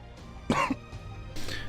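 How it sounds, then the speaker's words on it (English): A person sick with COVID coughs twice, two short, rough bursts close to the microphone with a quiet pause between them and no talk. "I'm having to cough."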